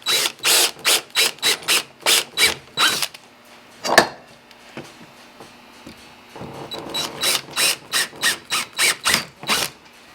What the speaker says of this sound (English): and drill your holes.